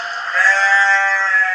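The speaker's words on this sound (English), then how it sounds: "maybe I'll choose a sheep baa" A GarageBand sheep baa sound effect: a single loud, sustained, wavering bleat lasting over a second, clean and close with no other sounds.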